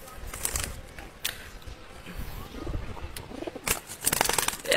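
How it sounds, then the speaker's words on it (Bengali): Restless pet pigeons heard up close, with soft rustling and fluttering wingbeats, scattered short bursts of flapping, and faint cooing in between. "এত ছটফটা কবুতরগুলো দেখাতেও পারতেছি না আপনাদেরকে"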